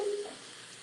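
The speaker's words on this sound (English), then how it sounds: "Listen to that. Sizzle." Singapore-style fried rice sizzles and fries in a hot pan, a steady loud hiss that eases slightly after a brief stronger burst at the start, with no talking.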